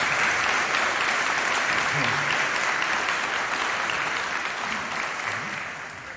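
Audience applause at a Wake Tech commencement ceremony, a broad steady wash of many hands clapping from a large crowd, sustained throughout and slowly fading toward the end.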